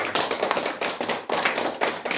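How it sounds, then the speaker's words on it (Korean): A church congregation claps during a Sunday worship service to welcome two visiting friends, with close, crisp handclaps coming in quick uneven bursts and short gaps between them. "두 분 박수로"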